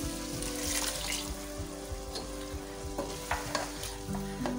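Water hits chickpeas frying in a pan, raising a loud, steady sizzle with scraping stirs and clinks, close up and with no talk.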